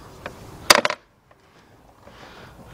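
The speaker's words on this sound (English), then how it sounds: "Get our snips. Cut that off." Snips cut through a diesel fuel return hose on a 1981 Mercedes-Benz 240D: one sharp, crunchy burst of cutting up close, then near silence.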